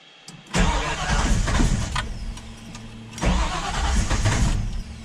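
A Ford Falcon XB GS engine cranks and catches twice, running rich and flooded with too much fuel, each start a loud, rough burst that settles into an uneven idle close by.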